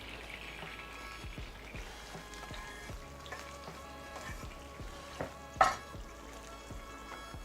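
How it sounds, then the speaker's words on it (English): Red onions sauté quietly in fat in a pan, giving a soft, steady crackle and sizzle, with one brief louder clatter near the end. "Sautéing the red onions."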